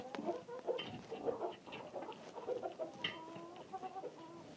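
Several chickens, including a bare-necked rooster and hens, cluck and murmur softly in overlapping bursts, fairly quiet and close, with no people speaking.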